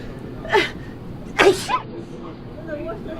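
Two sneezes about a second apart, the second sharper and followed by a short breathy tail, over a quiet room hum.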